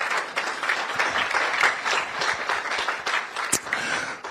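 A lecture hall audience applauds at a Ghanaian quiz event, steady dense clapping sustained throughout, fairly loud and close with no voices over it.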